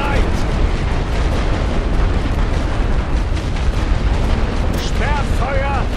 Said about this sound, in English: Diese Position mit Sperrfeuer belegen. Feuer!